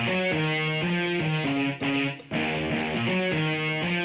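Layered guitars with drive, EQ and reverb play a steady repeating riff in a cover of a song, sustained and full, with a short dip near the middle before the pattern carries on.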